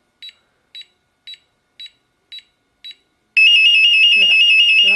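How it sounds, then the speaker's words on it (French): A Nanny baby monitor gives a series of six short, evenly spaced beeps, then breaks into a loud, continuous high-pitched alarm tone that holds steady to the end, with a faint voice briefly audible underneath. "Voilà, l'alarme qui est beaucoup plus forte."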